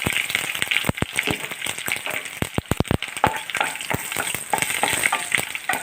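Mustard seeds and dried red chillies fry in hot oil, loud and close, with a dense crackle and a run of sharp spluttering pops all the way through.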